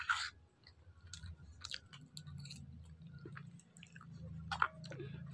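Close, quiet chewing of a breakfast of pilaf and potato curry, soft moist crunches and mouth clicks repeating steadily over a low room hum, with a few sharper bites standing out.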